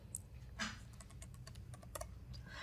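Someone types on a computer keyboard, giving a quiet, irregular run of soft key clicks that is steady and close, with no talk.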